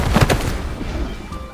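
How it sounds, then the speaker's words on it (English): A small explosion goes off nearby in the video game Love and Deepspace, with a sharp burst of booming thuds up front followed by a rumbling, crackling tail that fades out. "All of a sudden, there's a small explosion nearby."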